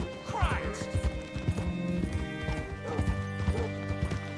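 Horse hooves clip-clop steadily in a horse-riding video game, with a whinny near the start and occasional crashing thuds, heard under a voice speaking.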